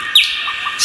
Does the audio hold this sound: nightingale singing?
yes